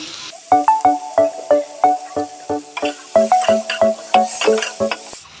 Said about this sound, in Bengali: তো আমি পেঁয়াজ আর টমেটো ভালো করে কষিয়ে নিয়েছি